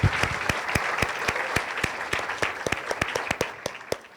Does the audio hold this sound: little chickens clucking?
no